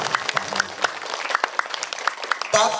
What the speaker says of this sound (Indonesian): Tepuk tangan dong untuk ianya itu.